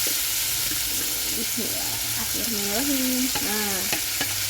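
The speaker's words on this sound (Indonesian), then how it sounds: "Kemudian kita tumis bumbu yang udah kita chopper sebelumnya." Chopped spice paste stir-fried in hot oil in a pan, a steady sizzle and frying hiss with stirring scrapes running throughout, while a voice speaks briefly over it.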